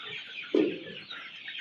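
On a desi poultry farm in winter, one chicken gives a single short cluck at close range over a quiet background of faint bird calls.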